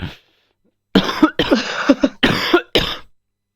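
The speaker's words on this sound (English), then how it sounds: "The cough just happened." A short series of close, harsh coughs, several bursts in quick succession, with near silence before them.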